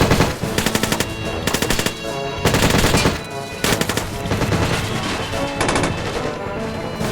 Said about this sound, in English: Oh my god, that SMG.